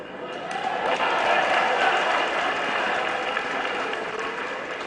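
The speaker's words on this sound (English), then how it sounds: "you are clapping for them for being smart" An audience of delegates at a political gathering claps in sustained, dense applause that swells and holds for several seconds, with a crowd murmur and voices mixed in.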